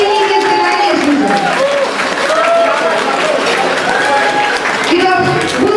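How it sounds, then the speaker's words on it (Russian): Wedding guests applaud the parents of the bride and groom, loud and sustained clapping under a host's voice and music. "аплодисменты родителям"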